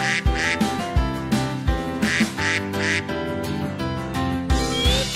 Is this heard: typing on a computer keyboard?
no